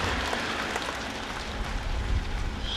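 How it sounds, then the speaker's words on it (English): Crowd applause at an outdoor threshermen's reunion parade in Austin, Manitoba, greeting a Ford Model T; steady, dense clapping runs the whole time at moderate distance, mixed with broad outdoor noise. "I'd like a nice round of applause for our Model T."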